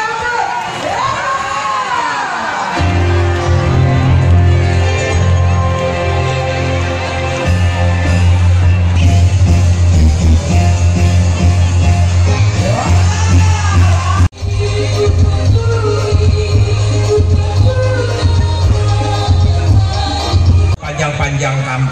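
A crowd cheers and claps for the runner-up of Liga Dangdut Indonesia 2018 at a large campaign rally among apartment-block residents, loud and continuous over steady, thumping music.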